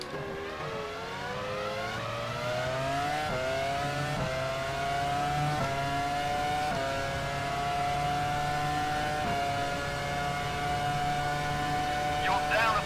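Simulated Formula 1 car engine in the F1 Challenge 99-02 racing game, screaming at high revs through repeated upshifts, each gear change dropping the pitch before it climbs again.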